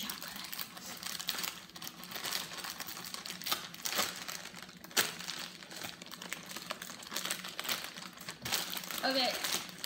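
A plastic bag of Hershey's Special Dark miniature chocolates is torn open and handled, giving a stretch of close, irregular crinkling and rustling with sharp crackles, while a person talks.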